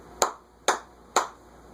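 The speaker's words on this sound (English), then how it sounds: "You clap your hands" Three sharp hand claps at an even, unhurried pace, each crisp and close, with a quiet room behind them.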